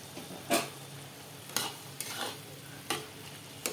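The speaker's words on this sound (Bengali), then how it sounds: "হলুদটা অ্যাড করে নেড়ে দিয়ে আবার আমি ঢেকে দেব" Bottle gourd curry cooks in a pan as turmeric is stirred in, a quiet simmering sizzle punctuated by several distinct spoon scrapes against the pan at uneven intervals.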